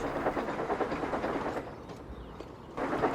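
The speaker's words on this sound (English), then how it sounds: "Percy was bringing the milk train from the dairy" Milk train of Percy running in a ROBLOX Thomas and Friends video game, a steady rolling rail rumble with faint clickety-clack, continuous throughout and briefly easing before picking back up.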